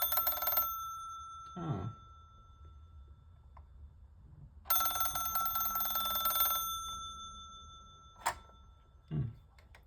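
A Cortelco Classic desk telephone's mechanical bell rings in two long metallic bursts, close and loud, with quiet handling clunks between them and one brief spoken exclamation.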